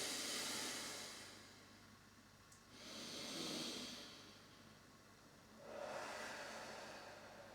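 A person breathes slowly in and out during a standing posture exercise, three broad airy breath swells spaced a few seconds apart, soft and close with no talking.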